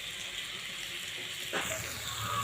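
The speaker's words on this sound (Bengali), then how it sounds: "যাই হোক, আর একটু ভাজবো আমি" Mango pieces for khaja mango pickle fry in a pan, a steady soft sizzle and hiss running throughout at low level, briefly louder when they are stirred partway through.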